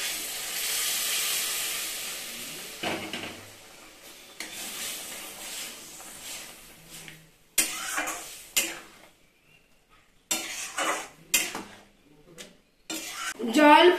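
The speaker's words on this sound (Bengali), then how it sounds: "ছোলার ডাল কষানো হলে দিয়ে দেব গরম জল" Hot water is added to sautéed chana dal in a pan, a brief hiss and sizzle followed by clattering of a spoon or ladle against the pan in short bursts, with people talking at intervals.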